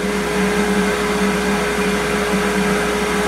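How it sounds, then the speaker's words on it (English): A shop dust collector drones steadily and loudly in a woodworking shop, a constant whooshing roar with a fixed tonal hum and no break in level. "plus a shop dust collector's running"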